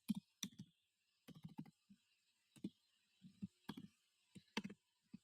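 Key clicks on a computer keyboard come in short clustered bursts with pauses between them, close and quiet, while a line of code is written.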